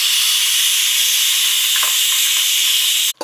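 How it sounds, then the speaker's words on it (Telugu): Onions dropped into hot oil for a mutton curry give a loud, steady hiss of sizzling that fills the whole stretch, then breaks off abruptly near the end. "నూనె వేడైంది ఇప్పుడు నేను ఉల్లిగడ్డలు వేస్తున్నా"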